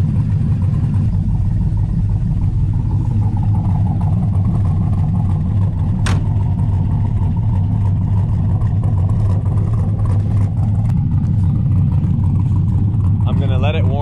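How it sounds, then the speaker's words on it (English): The LS-swapped V8 of a 1972 Chevrolet C10 pickup idles after a cold start in snow, a steady low rumble throughout, loud and close, with a faint sharp click partway through. "I'm gonna let it warm up. I'll give it a few revs."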